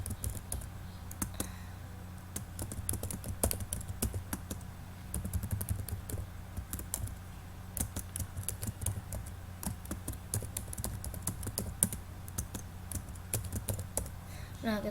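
Close, irregular clicking of keys on a computer keyboard as text is entered into a pharmacy web system's form, a steady patter of keystrokes with brief pauses.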